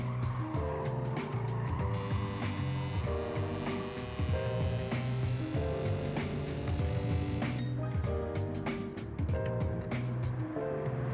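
Race car engine in the Gran Turismo 7 video game during a race, a steady buzzing drone with frequent gear changes and some tire squeal, moderately loud and continuous.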